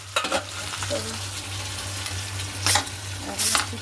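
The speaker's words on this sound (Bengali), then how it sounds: "এই দেখো মাছ আমার ভাজা হয়ে গেছে" Fish fries in hot oil in a home kitchen, a steady close sizzle broken by a few sharp stirring scrapes, with no talking.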